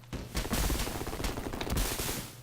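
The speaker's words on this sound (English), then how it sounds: "Jeez, so much firing going on." Rapid, dense gunfire from the helicopter combat game Urban Strike, a continuous barrage of overlapping shots and bursts running loud throughout with no one speaking.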